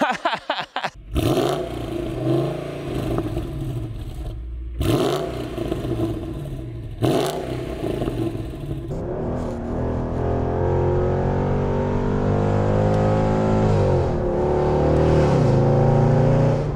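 A Mercedes-Benz CLS 55 AMG engine revs hard while driving, with sharp throttle blips and bursts in the first half, then a sustained, rising engine drone as the car accelerates, loud and close throughout.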